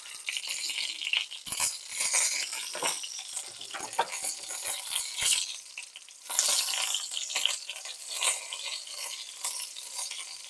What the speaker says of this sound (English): these will fry up real quick because they're tiny little nuggets